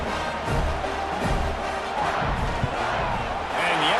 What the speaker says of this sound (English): Whooping, going nuts in the stands.